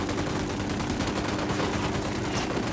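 Gunfire in Tom Clancy's Ghost Recon Wildlands, a dense continuous clatter of overlapping rapid shots throughout, loud and close.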